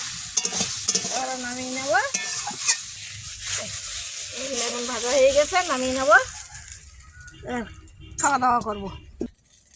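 Food sizzles softly and a utensil scrapes as it is stirred in a pan in a home kitchen, mostly buried under near, lively conversation.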